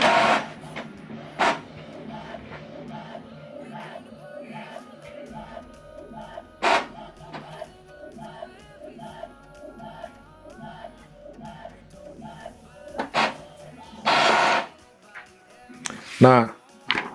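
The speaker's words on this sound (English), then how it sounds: "So now it's printing the page 2" An Epson printer runs an alignment pattern page, its mechanism ticking and whirring in a steady rhythmic pattern, close by, with louder bursts of motor noise near the end.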